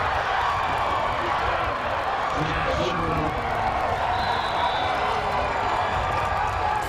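A crowd at a college football game, Fullerton College Hornets against Golden West, producing a steady roar of distant cheering and murmur throughout, with no distinct peaks.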